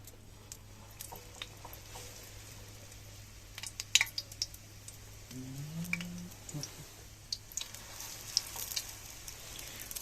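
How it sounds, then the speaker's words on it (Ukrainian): Sausages wrapped in dough fry in a hot pan, giving a faint, steady sizzle with scattered soft crackles and ticks, heard close and quiet with no talking. "дуже швидше буде смажитись, бо сковорідка розігріта."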